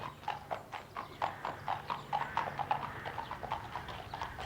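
Horse hooves clip-clop in a steady rhythm during a ride, about four beats per second, moderately close with faint background noise.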